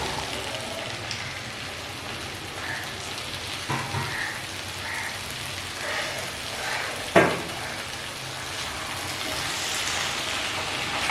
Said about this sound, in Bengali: ভিন্ডিগুলো নাড়াচাড়া করতে করতেই যাতে নরম হয়ে যায়, এই মশলার সাথে খুব ভালো করে বেশ কিছুক্ষণ ধরে আমি ভেজে নেব।